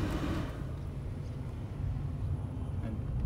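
Low, steady rumble of tyres rolling on the road inside a quiet 2016 Nissan Leaf 30 kWh electric car, a continuous muffled hum with no engine sound.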